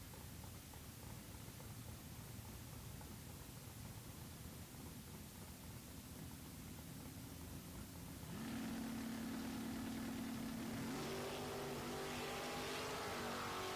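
A Chevrolet S10 pickup at a drag race, with a broad roar of engine and wind noise that holds steady, then jumps louder as a strong engine tone rises and climbs in pitch through the run.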